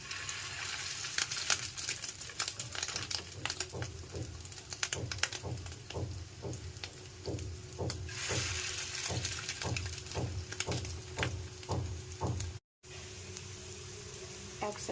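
Fish roe fritters fry in mustard oil, a steady close sizzle broken by a run of regular light crackles and pops.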